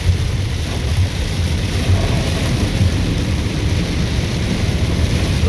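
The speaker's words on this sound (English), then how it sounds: "Might kind of get a few inches of rain dumped on us." Heavy rain from Tropical Storm Cristobal pours down in Biloxi, making a loud, steady, dense roar that never lets up and has no voices over it.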